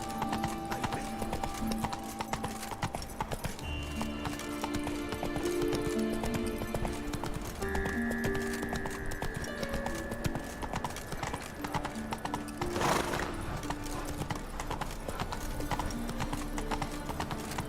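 Roach the horse galloping in The Witcher 3, a steady rapid clip-clop of hooves close by, running continuously with faint game sounds and a brief whoosh partway through.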